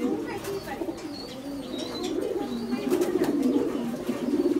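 High Flyer pigeons coo in soft repeated low calls close by, with a person talking over them.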